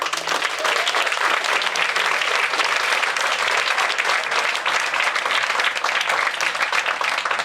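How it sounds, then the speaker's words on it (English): Audience applause at a PechaKucha Night event in Burlington, steady dense clapping from a crowd, loud and sustained without a break. "So, round of applause."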